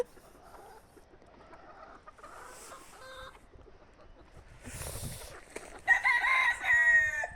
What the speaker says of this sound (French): Et ça c'est René le coq.